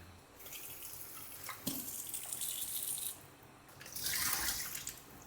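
Water splashes and pours in a few short bursts, with quiet pauses between the streams.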